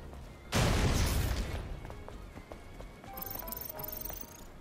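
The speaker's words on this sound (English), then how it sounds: "It's a bit disappointing, the explosion." A small explosion in the Stellar Blade game bursts loudly as a sudden broadband blast, then decays over about a second into lighter rattling debris and faint tonal game sounds.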